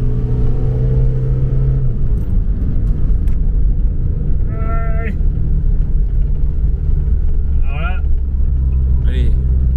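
A Peugeot 205 engine is pushed flat out along a winding hill-climb road, a steady loud drone running throughout with several rising rev sweeps as the car accelerates between bends.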